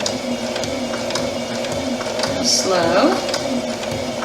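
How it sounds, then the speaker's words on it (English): Sewing machine stitching an invisible zipper, a close mechanical whir and rapid stitching under a person speaking briefly. "Do a quick reverse stitch right here, and sew along."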